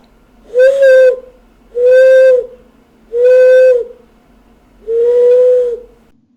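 Four long, steady whistled notes, each held about a second with short pauses between, clear and close with no talking.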